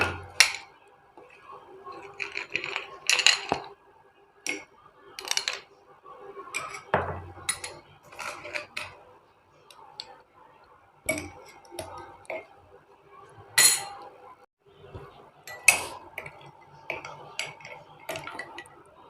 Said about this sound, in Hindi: आइस क्यूब्स डालेंगे इसके अंदर।